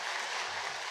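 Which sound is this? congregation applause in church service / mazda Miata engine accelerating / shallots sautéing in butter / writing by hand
congregation applause in church service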